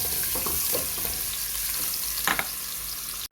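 Chopped garlic sizzling and frying in hot oil inside a cooking pot, a steady loud crackle with occasional stirring scrapes, close up and without talk.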